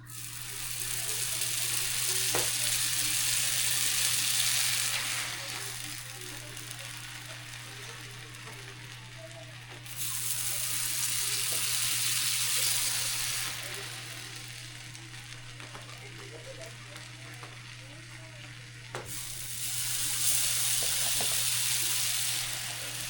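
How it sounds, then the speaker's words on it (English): Burger buns toasting in butter on a grill, a close buttery sizzle that swells loudly in three bursts and eases between them, with a steady low hum underneath. "All right, so now I'm gonna toast these buns"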